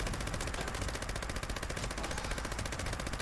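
A Gauss minigun in Fallout 76 fires in a steady, rapid, unbroken stream of shots, loud and sustained for the whole stretch.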